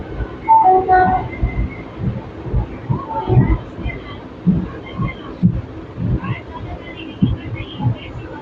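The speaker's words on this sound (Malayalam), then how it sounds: "നമ്മുടെ ട്രെയിൻ 2:57 ആകുമ്പോൾ പറമ്പക്കുടി റെയിൽവേ സ്റ്റേഷനിൽ ഡിപ്പാർട്ട് ആയിക്കൊണ്ടിരിക്കുന്നു" A train departs Paramakudi railway station, a station under redevelopment with passengers waiting to board; rhythmic low thumps and rumble of the moving train run throughout, with people talking over it.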